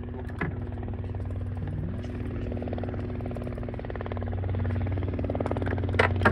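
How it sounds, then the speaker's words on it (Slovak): Helicopter passing over an airfield at Dubnica nad Váhom on a hot day, a steady low rotor drone with engine hum that holds throughout and swells slightly near the end, with some wind and handling clatter. "Pozrime sa, aha, vrtuľník."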